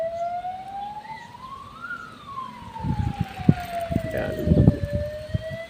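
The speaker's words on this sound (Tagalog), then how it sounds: "Ayun, bumbero nga. Bumbero siya. Meron na naman pupuntahan." A fire truck siren wails in a long rising and falling tone as it passes along a hot street lined with trees, with someone speaking briefly and traffic rumble building near the end.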